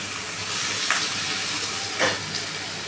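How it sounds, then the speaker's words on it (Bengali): Ridge gourd sautés in a pan with cumin, ginger, coriander and turmeric powder, giving a steady, soft sizzle throughout with a couple of faint stirring scrapes. "মশলা দিয়ে দেবো, জিরে, আদা, ধনে, হলুদ গুঁড়ো দিয়ে ভালো মতন কষিয়ে নেব"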